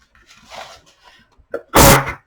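A single loud, sharp sneeze bursts out near the end, preceded by a quick intake of breath and soft murmuring.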